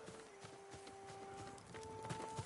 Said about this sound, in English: This horse is still here.